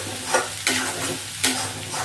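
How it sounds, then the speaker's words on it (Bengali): Pointed gourd fries in hot oil in a pan and is stirred, a steady sizzle broken by three scraping, swishing stirs at close range, with no talking. "এবার এটাকে আমি নাড়াতে থাকবো যতক্ষণ এটা থেকে তেল থাকছে।"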